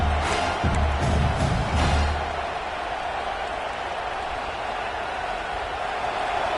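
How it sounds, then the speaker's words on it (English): A college football stadium crowd roars behind the home defense on third down, a loud, dense swell of cheering that peaks early and then settles into a steady wash of crowd noise. "decibels rising as the crowd gets behind this defense on third down."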